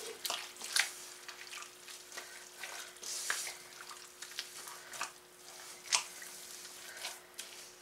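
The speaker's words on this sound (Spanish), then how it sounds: "Le vamos a ir poniendo agua de a poquito para que no se nos llegue a pasar." Water is added little by little to Maseca masa for vegan tamales, producing soft drips, splashes and wet squishing taps in an irregular rhythm, quiet and close.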